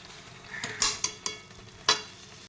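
Chicken and potatoes are stirred together in a pot over a faint sizzle, with a few distinct scraping knocks of the spoon against the pot, close and quiet.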